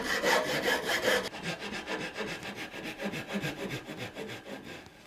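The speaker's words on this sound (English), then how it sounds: "And so we'll rough cut this out with our saw." A hand saw with crosscut teeth rough-cuts hardwood for a butter knife in rhythmic back-and-forth strokes, fast and loud at first, then slower and steadier, with no talking.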